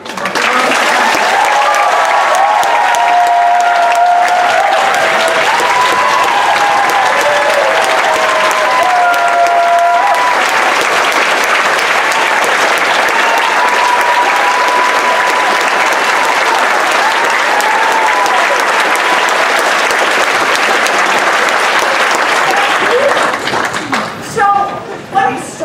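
An audience in a university hall at Clark University in Worcester applauds Senator Elizabeth Warren's arrival, loud continuous clapping that lasts about twenty seconds and then dies away, with a few voices over it.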